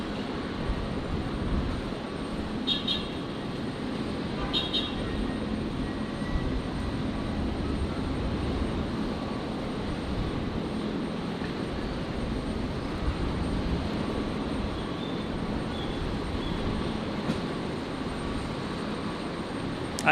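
A Virgin aircraft departs from runway 01 left at Brisbane Airport with a continuous, moderately distant engine roar that stays fairly even for about twenty seconds.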